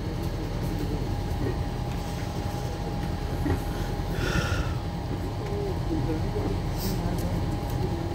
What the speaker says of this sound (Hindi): यहां से ट्रेन हमारी डिपार्चर भी ले चली है आगे कराड